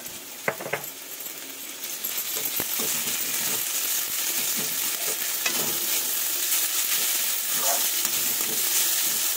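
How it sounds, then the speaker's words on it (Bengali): Chopped banana stem drops into hot oil with turmeric in a pan, an early clunk followed by a steady, close sizzle broken by scraping stirs and light taps; no talking. "একটু ভাজা ভাজা হয়ে গেছে, এবার আমি থোড়টা দিয়ে দেবো।"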